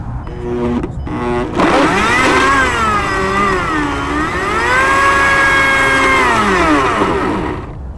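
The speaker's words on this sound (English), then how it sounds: "That'll also help the blender kind of do its work." A blender pulses soup with olive oil, its motor whine loud and continuous, sliding up and down in pitch for several seconds before cutting out, with no talking.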